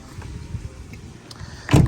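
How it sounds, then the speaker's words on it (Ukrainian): A used car's power-folding side mirrors whir with a low, quiet motor hum at a Lutsk car market, ending in a sharper clunk as they lock into place. "У нас складаються зеркала по кругу автомобіль"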